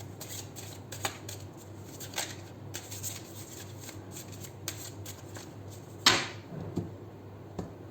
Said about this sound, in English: We'll do 3 shuffles.